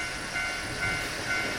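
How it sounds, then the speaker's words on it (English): A train in the Natsugiri Notes video game rolls past with a steady mechanical rumble, and a faint tonal whine recurs three times at a regular pace over the continuous noise. "There's the train again."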